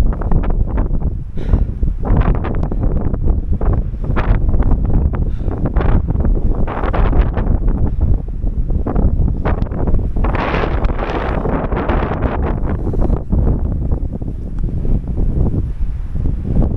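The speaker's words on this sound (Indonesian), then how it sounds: "Anginnya kenceng" Strong wind sweeps across a misty mountain trail near the summit of Mount Lawu, battering the microphone with loud, continuous gusty rumble and buffeting that rises and falls throughout, with no talking.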